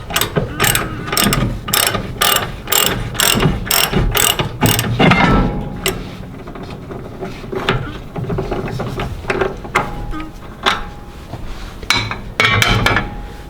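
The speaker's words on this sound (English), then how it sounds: "we have to undo one of these retaining clips, which has that same size of bolt on it" A ratchet wrench loosens the bolt on a retaining clip inside a Heartland Oval stove's firebox, giving fast close bursts of metallic clicking that pause briefly and then resume in shorter runs.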